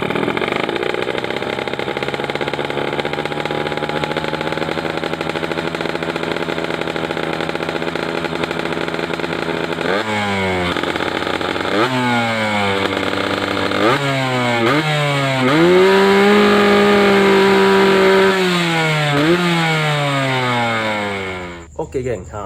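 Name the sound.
motorcycle engine running after new RHS piston installed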